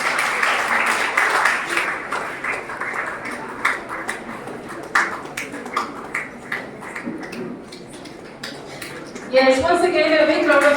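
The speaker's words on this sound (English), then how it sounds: "Let's give a big round of applause and welcome her." Audience applause at the inauguration of an educational society's platinum jubilee as a guest takes the stage: sustained clapping that rises and falls, with voices mixed in, then music swelling in near the end.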